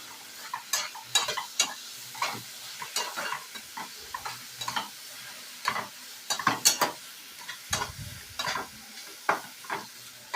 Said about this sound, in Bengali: সবগুলো উপকরণকে আমি ভালো করে কষিয়ে নেব।